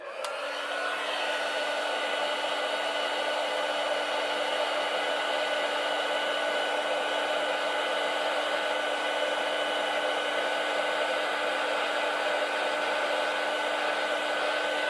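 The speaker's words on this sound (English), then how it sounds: "the embossing powder. Let me hit the heat tool on that again." A heat tool blows a constant, loud, hair-dryer-like roar with a high whine while melting embossing powder on a card, running steadily alone from a sharp start.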